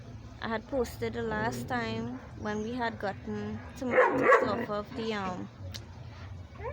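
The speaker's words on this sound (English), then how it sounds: "Excuse my noisy dog, he's very wild" A noisy, wild dog barks and yips in a home garden, with several sharp yelps breaking through steady talking throughout.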